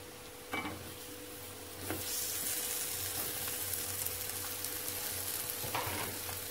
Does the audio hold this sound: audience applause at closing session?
no